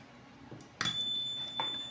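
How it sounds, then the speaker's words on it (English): A CT-08 component tester sounds its short-circuit buzzer: after a sharp click, a continuous high electronic beep starts and holds steadily to the end. "And you will get a buzzer and short circuit indication on the component tester."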